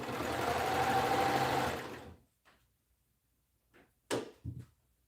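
A sewing machine runs steadily for about two seconds as it stitches through a thick junction where several seams meet in heavy fabric, then stops, followed by a few sharp clicks and clunks from the machine.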